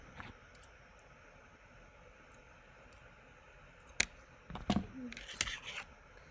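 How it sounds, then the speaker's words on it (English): Scissors snip off long thread ends during sewing: a faint, quiet room with a sharp click, then a few close crisp cuts and rustles. "my ends are very long on both sides, so I'm just going to snip them a little bit"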